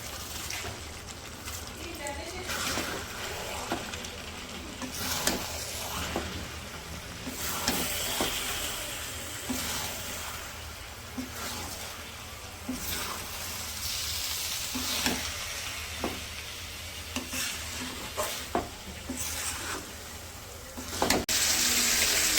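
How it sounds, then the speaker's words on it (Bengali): Meat with rice and lentils frying in a pot over an outdoor village fire, a continuous sizzle with scraping stirs and occasional clinks, while people talk over it throughout. "চাল আর ডালগুলো দিয়েও কিছুক্ষণ কষাই নিই"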